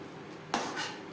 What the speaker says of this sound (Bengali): গ্রেভির সাথে মাছ বেশ ভালো করে মিক্সড করে দেবো।